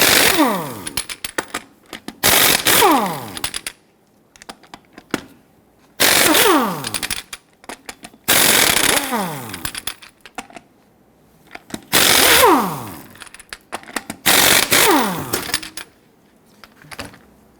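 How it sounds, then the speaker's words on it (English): An impact wrench with a 19mm socket loosens and spins off the wheel lug nuts on a 2006-2010 Hummer H3, giving loud rapid hammering bursts of a few seconds each, with short gaps and falling whine as each nut frees. "Using a 19mm socket, loosen and remove the lug nuts"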